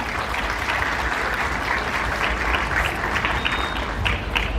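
An audience at a private school ceremony in Kurdistan honouring ninth-grade students applauds, a continuous, even wash of many hands clapping from start to finish.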